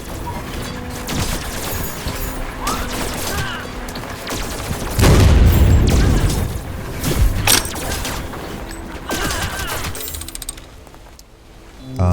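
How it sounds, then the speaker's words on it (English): Explosions and rapid gunfire in a drone-swarm survivors-like video game, a dense, continuous barrage with heavier booms midway and no talking. "Explosions!"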